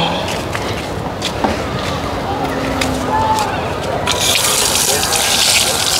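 Water runs steadily from a tap at an apartment foot-washing station, a continuous splashing hiss under nearby voices and footsteps, then the stream grows louder and brighter near the end.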